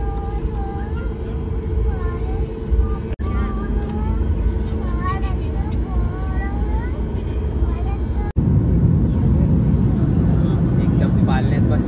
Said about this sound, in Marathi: स्टार्ट झालेले आहे प्लेन